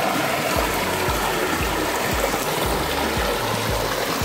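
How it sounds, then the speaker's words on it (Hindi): Water flowing along a stream on a road trip in Bankura, a continuous close rushing babble with faint rhythmic low thumps underneath. "The sound of water."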